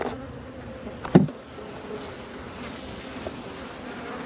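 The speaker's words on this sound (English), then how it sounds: "that is the bees coming out of the top of the feeder hole." Steady low buzzing of many bees close by at a hive feeder hole in January, a continuous hum with one brief louder burst near the start.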